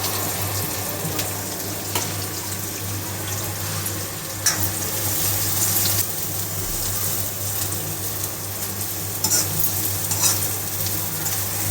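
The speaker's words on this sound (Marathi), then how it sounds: "कांदा ब्राऊन होईपर्यंत भाजून घेणार आहे" Chopped onion fries in a pan for village-style pithla, a continuous loud sizzle with occasional stirring scrapes and a steady low hum underneath, no voices.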